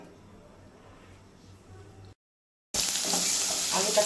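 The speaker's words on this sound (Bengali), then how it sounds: "আলুটাকে একটু ভালো করে ভেজে নেব।" Potatoes frying in oil in a wok, a quiet low hiss that breaks off briefly, then returns as a louder, bright, steady sizzle close by.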